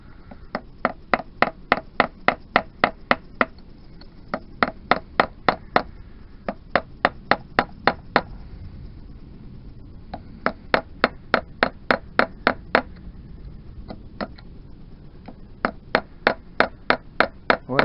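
A hammer strikes a flat punch against a hardened lock washer on a 1988 Yamaha DT125R motorcycle engine, sharp metallic blows in quick regular runs of several hits separated by short pauses, loud and close.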